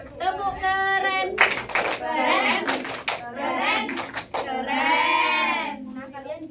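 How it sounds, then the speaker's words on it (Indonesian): A fifth-grade class claps a rhythmic cheer clap, with short bursts of quick claps alternating with children's voices chanting together in the classroom. "Kita kasih tepuk keren untuk kelompok 1. Tepuk keren."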